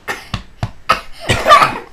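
A child coughs to get something out: several short, sharp coughs up close, then a longer, rougher burst at the end.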